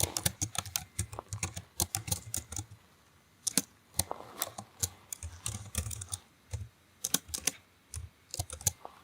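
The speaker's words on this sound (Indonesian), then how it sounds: "sekarang ketikkan ini" Typing on a computer keyboard while writing PHP web code, close and fairly quiet key clacks in quick irregular runs separated by short pauses.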